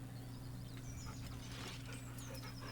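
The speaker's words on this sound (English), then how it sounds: "The dog whimpers nervously," In Baldur's Gate 3, a dog whimpers nervously with faint, thin high whines over a steady low hum, all very quiet.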